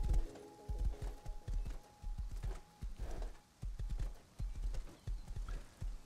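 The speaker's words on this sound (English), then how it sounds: "What kind of horse is Barry?" Hooves clip-clop in a steady trotting rhythm in the video game Rust, close and fairly loud, with a faint sustained tone underneath at first and no talking.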